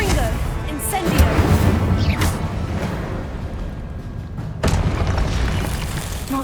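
Confringo spell blasts in Hogwarts Legacy, loud booming explosions with one heavy hit early and another about two-thirds in, over a rumbling game soundscape with a voice calling out spells.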